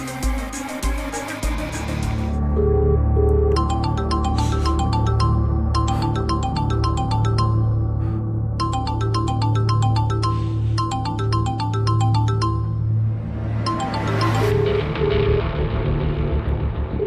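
A mobile phone ringtone plays loud and close in repeating electronic bursts with short gaps, over a steady low rumble and background music.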